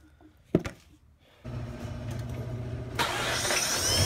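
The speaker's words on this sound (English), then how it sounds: "I know it's going to go down once I start the engine" A Mazda RX-8 engine cranks and catches during a coolant flush, settling into a steady idle, then rises to a louder rumbling hum; a sharp click comes first.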